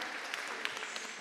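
Concert audience applauding in a hall, a steady wash of many hands clapping, moderately distant and fairly soft throughout the short stretch.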